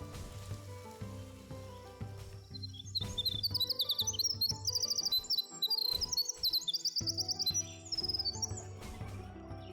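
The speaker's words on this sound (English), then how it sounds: "that's a really pretty bird call" A wren's call plays as a game soundbite in Palworld, a bright rapid chirping trill that arrives in repeated bursts over a low musical background and is fairly faint, with no talk.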